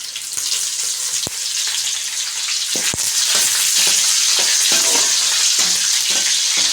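Curry leaves crackle and sizzle hard in hot oil in a pan for spicy chicken rice, a steady loud frying hiss broken by a couple of sharp pops, close up with no talk.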